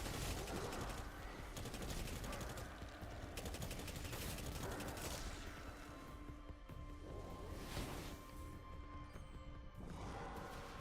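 Rapid automatic gunfire in the video game Destiny, a dense, loud, continuous burst of shots with brief breaks, heard alone with no talking.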